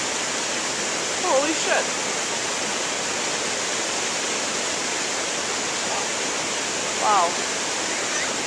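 Floodwater rushing down into a road makes a constant broadband roar like a waterfall, close and loud throughout, while a person exclaims briefly twice over it.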